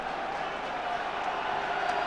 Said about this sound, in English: noise in the stadium at the moment